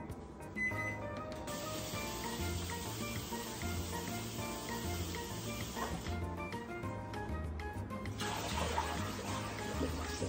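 Hard-steamed eggs are lifted out and submerged in water, giving a steady running, splashing wash of water with gentle bubbling and clinks throughout, fairly faint and with no talking.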